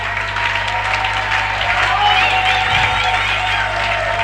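Church congregation applauding and cheering during a French and Lingala worship song, a dense crowd clapping steadily under a singing voice.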